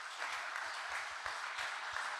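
Audience applause at a members' forum, a steady broad clapping wash over a couple of seconds with no talk.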